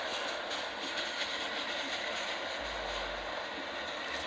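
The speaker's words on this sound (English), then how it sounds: "This is an express" An R179 subway train running as an express A train in New York, from a train simulator video game, gives a steady loud rumble with hiss and a low hum throughout, with no talking.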